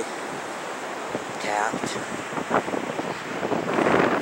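Ocean waves and wind at a river mouth beach rush and roar steadily, buffeting the microphone, while someone speaks briefly and the surf swells louder toward the end.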